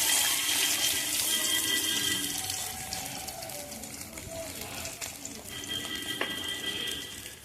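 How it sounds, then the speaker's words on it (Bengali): Pieces of catla fish, rubbed with salt and turmeric, frying hard in hot oil, giving a steady loud broadband sizzle and hiss throughout with small crackles and pops, no talk over it. "এবার এই বড় বড় পিসগুলো নুন হলুদ মাখিয়ে তেলে কড়া করে ভেজে নেব"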